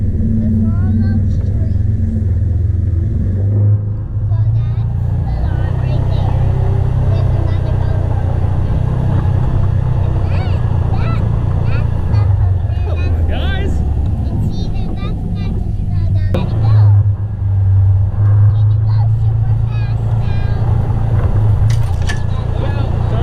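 A Kubota RTV-XG850 SideKick side-by-side drives through snow while towing sleds, its engine a steady low rumble throughout, with brief surges as it accelerates, under scattered voices and outdoor noise.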